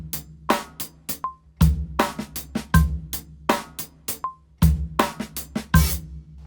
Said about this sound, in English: So if I wanted to play in a mixture of 8th notes, 8th note triplets, and 16th notes, it would sound like this.